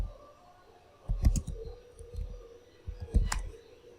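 A computer mouse clicks while a user installs Google Chrome on MX Linux. Two short clusters of crisp clicks sound close and fairly loud, separated by quiet gaps with faint background hum.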